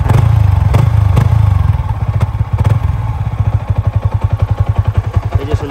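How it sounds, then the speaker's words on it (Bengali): Yamaha R15 motorcycle engine idling close by, a steady low throb that settles into a rapid, even pulsing beat, with a few clattering knocks over it. "এই যে শুনতে পাচ্ছেন, ওই যে হচ্ছে ইঞ্জিনের সাউন্ডটা।"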